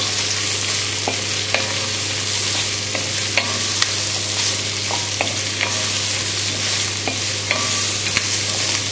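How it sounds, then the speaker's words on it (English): Garlic and carrots are stirred in butter and oil in a pan for a beef casserole. A loud, continuous close sizzle carries sharp, regular spoon clicks and scrapes against the pan throughout, with no voices. "And we'll just give this a little stir, just to get it coated with the butter and the oil."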